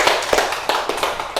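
Students in a classroom applaud in a short burst of rapid, close hand claps, loud and uneven, with no talking.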